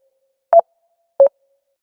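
Two short, evenly spaced electronic tones sound from a telephone on an outgoing call, each brief beep standing alone against near silence, clean and moderately loud like a ringback heard through a handset.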